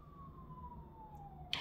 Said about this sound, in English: Sirens are still going off every second.